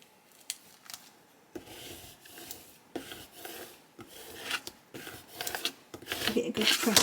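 A scraper tool rubs repeatedly over a vinyl decal during layering, producing close, dry rasping strokes in short bursts separated by brief pauses, growing busier toward the end.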